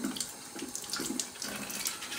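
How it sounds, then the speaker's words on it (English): Tap water runs steadily from a faucet into a sink as an HO-scale Gilbert ALCO DL600 model locomotive shell is rinsed, a continuous close splashing stream with no talking. "Sometimes it also helps to scrub a little bit more while you're rinsing."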